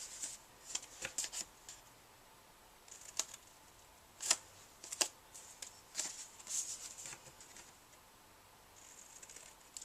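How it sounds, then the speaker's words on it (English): Regular scissors snip through a paper onesie template in short, crisp cuts, some single and some in quick pairs, coming at an irregular pace and sounding close and fairly quiet against a soft room hiss. "Just going to use regular scissors to cut this out"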